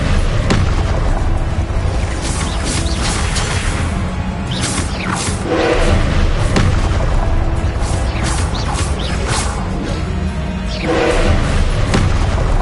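Spell explosions from combat in the video game Hogwarts Legacy: a dense, loud barrage of booms, crashes, thuds and whooshing casts that keeps going with no pause throughout.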